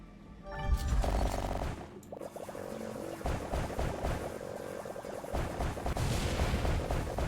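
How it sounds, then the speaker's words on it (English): Explosions go off while mining in the video game Wall World, a loud burst of booms and crackling blasts followed by a busy run of repeated bangs and clatter with game tones underneath. "Big explosions."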